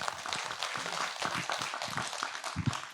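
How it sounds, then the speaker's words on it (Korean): An audience at a Buddhist monk's question-and-answer talk claps briefly in a scattered, moderately quiet burst, with no voices over it. "박수 한번 보내주시기 바랍니다"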